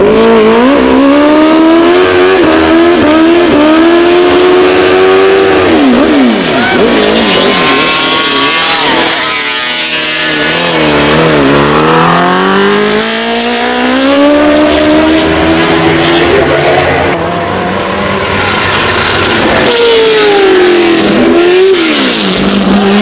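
An original 1930s race car with a rebuilt 87-year-old engine drives at Goodwood Festival of Speed, its engine loud and close, revving up and down through gear changes and roaring continuously, with a voice talking over it.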